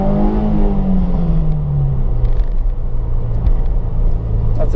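Manual car engine revving hard during a pull, a loud close rumble with rising and falling pitch and a low steady drone beneath, and no talking.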